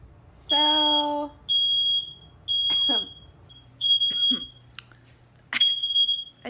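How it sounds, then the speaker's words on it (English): A kitchen smoke detector goes off at home, sounding repeated bursts of piercing, high-pitched beeping with short gaps between them, along with a few brief vocal sounds. "I set the smoke detector off, and I can't get it to stop."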